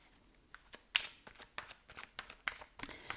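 Tarot cards drawn and handled on a table: a quick run of soft, papery flicks and snaps, fairly close and quiet, with a couple of sharper card slaps.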